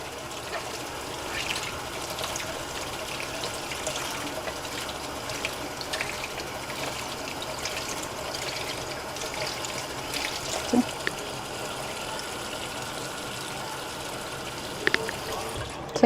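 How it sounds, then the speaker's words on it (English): Cold tap water runs steadily from a faucet through a makeup brush being cleaned, a soft continuous trickle and splash at moderate distance lasting throughout, with a few small clinks near the end. "put a little bit of cold water and just kind of run it through it."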